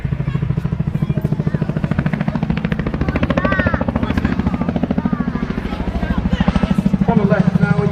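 A Chinook twin-rotor helicopter flies a display at an armed forces day event in Cleethorpes, its loud rapid rotor thudding pulsing steadily throughout while a commentator talks over it.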